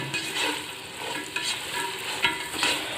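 Onions fry in a pan for a chicken kabsa, sizzling steadily while being stirred, with scraping strokes and small crackling bursts up close and no voices.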